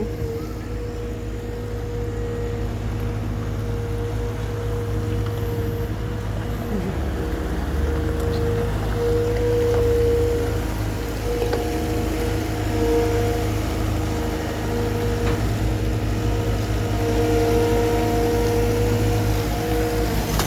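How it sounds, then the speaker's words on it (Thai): A street sweeper truck with large brushes, driven along a road after the snow has melted, drones in a steady low engine hum with scraping and brushing noise, continuous and fairly close throughout. "รถคันนู้นก็กวาดถนนนะคะ เก็บขยะเก็บก้อนหิน"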